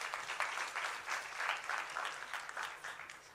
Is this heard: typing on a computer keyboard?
no